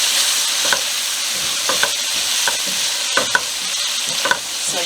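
Onions soften and fry in a pot while being stirred, a steady loud sizzle broken by occasional scraping strokes of the spoon.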